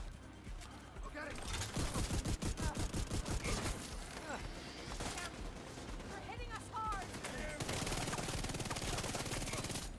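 Gunfire from The Division 2 shooter game comes in a fast burst of rapid automatic shots, then further volleys and scattered shots follow under overlapping game effects, moderately loud with a voice talking.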